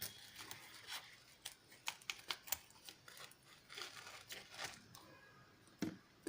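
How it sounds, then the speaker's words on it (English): Scissors snip through the ends of a handmade craft pouch, giving a string of quiet, crisp cuts and crinkles at an uneven rhythm, close by with no voices. "So now take scissors and cut the ends."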